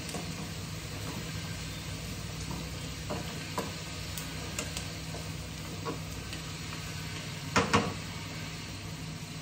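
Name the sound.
onions frying in a pan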